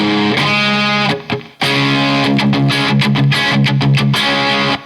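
High-gain electric guitar through a Trinity Amps Triwatt amplifier, set to a brighter distorted tone: sustained chords and riffs with a short pause near the middle, loud and close with no talking.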